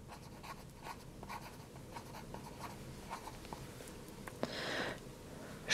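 A pen writes a concept map on paper: faint, soft scratching strokes and light taps at close range, with a slightly louder brief scribble near the end.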